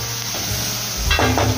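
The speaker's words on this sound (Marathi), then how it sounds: "लसूण मऊ करून घेऊ" Garlic fries in a hot pan while being prepared for a dhaba-style paneer masala gravy, giving a steady close sizzle with a brief stirring scrape near the end and no talking.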